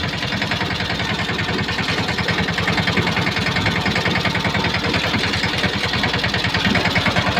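A tractor engine idles nearby with a steady, rhythmic low chugging and rattling vibration, unbroken throughout, loud and with no voices.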